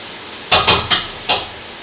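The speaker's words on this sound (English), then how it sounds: "Next, I'll add the seasoned crab in." Seasoned crab going into a Trinidad-style curry, four quick loud bursts of sizzling and clattering in close succession, close by.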